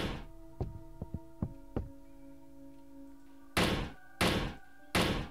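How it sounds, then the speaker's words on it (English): Doors banging in a Minecraft horror map: several sharp thuds and knocks ring out in quick succession, then three louder, heavier slams spaced about a second apart, close and without talk. "Yeah, I can bang doors too."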